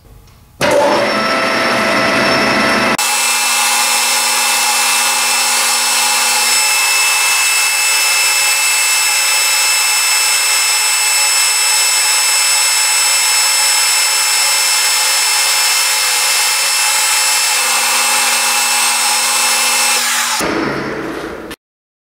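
A metal lathe takes a 10-thousandths facing pass without cutting fluid, making a loud, unbroken machining whine with a steady hiss that holds for about twenty seconds before the motor cuts off.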